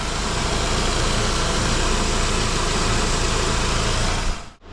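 A Saab 9-5 Aero engine, freshly fitted with a new alternator, idles in a steady, dense hum close by, then cuts off abruptly just before the end.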